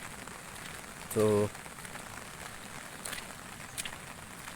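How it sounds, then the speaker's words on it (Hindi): Steady rain falls in the mountains at dawn, a constant hiss of drops on surfaces filling the scene, with a brief spoken word from a man partway through. "आप लोग भी ब्लॉग के माध्यम से देखेंगे कि पहाड़ों में कितनी बारिश हो रही है।"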